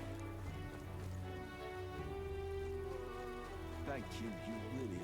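Steady rain falls in the fantasy role-playing game Metaphor: ReFantazio, a continuous soft hiss under game music and a voice.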